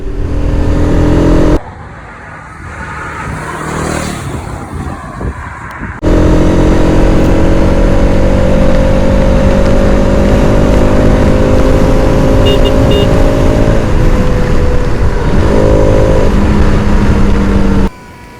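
A 2023 Bajaj Pulsar RS200 motorcycle rides along a road toward 19 Mayıs, its engine droning loud and close with steady revs and shifting pitch, under strong wind noise and with no talking.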